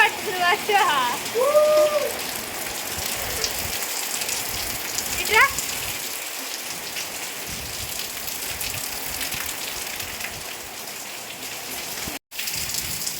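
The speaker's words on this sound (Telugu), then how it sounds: "ఫుల్ వర్షం భయంకరం" Heavy rain pours down in a loud, steady, unbroken roar, with a few brief, faint voice-like sounds early on and a momentary dropout near the end.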